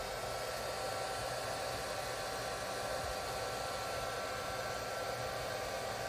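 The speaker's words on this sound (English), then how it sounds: "get my blow dryer" A handheld hair dryer blows continuously at close range, a steady, loud rush of airy motor noise that does not change.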